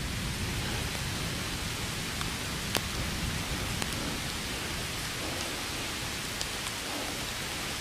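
Steady rain falls on a garden with pepper plants, a soft, even hiss with occasional sharper drips close by, no talking.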